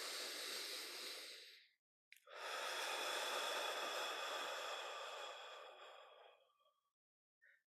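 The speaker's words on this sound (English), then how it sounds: "Inhale." Long, deep breaths drawn during a qigong breathing practice, a broad airy rush lasting several seconds after a brief pause, close and steady, fading out near the end with no talking.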